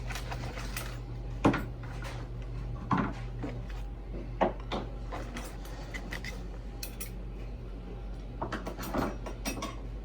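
Rummaging through a toolbox for a dental hook, with scattered clinks and rattles of metal tools over a steady low hum, close and irregular.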